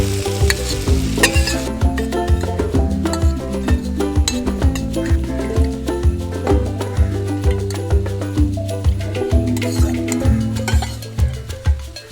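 Curd is added to fried onions in a pan for an idli curry and splutters hard, with a loud, constant sizzle, stirring and occasional utensil clinks over steady background music.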